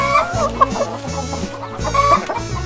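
A chicken clucks in short, repeated bursts, close and clear, with light background music underneath.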